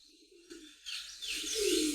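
Pigeons at a pigeon farm give a soft, low coo. A brighter, hissy background noise then rises and swells, with no talking.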